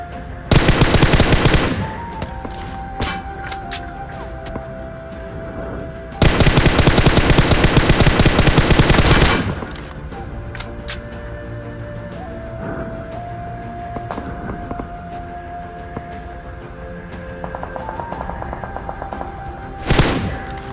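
Automatic gunfire in the PUBG battle game, with loud sustained bursts of rapid shots near the start, a longer heavy spray in the middle and a short burst at the end, separated by quieter ambient game sound.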